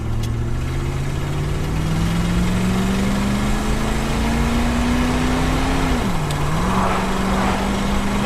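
A Holden HK car with an electronic button gear change idles steadily, its engine note rising slowly over several seconds, then dipping and settling as a gear is selected, with no one talking.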